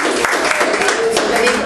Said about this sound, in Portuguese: as palmas vão para o Senhor